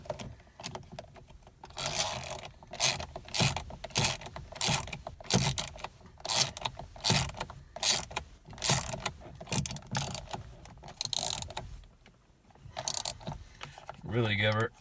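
A middle screw being tightened back into a Volkswagen MK6 steering wheel, heard as rhythmic ratcheting clicks in repeated bursts with brief pauses, close and fairly loud, ending in a short quiet stretch.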